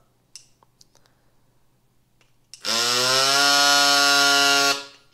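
A few faint clicks, then a compact electric portable bike tire pump starts up with a loud, high-pitched whine that holds steady for about two seconds and stops abruptly.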